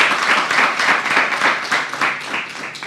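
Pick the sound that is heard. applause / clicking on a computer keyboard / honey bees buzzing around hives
applause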